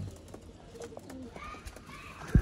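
A pigeon coos softly from a kabootar bazi loft in a quiet setting, with low, brief calls and a short thump at the end.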